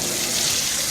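Tap water runs in a steady, even gush during a move-in inspection water test of a home's faucets, close and continuous throughout.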